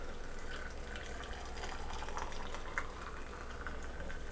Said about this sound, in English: I'm gonna take my brine and I'm just gonna pour it right into my jar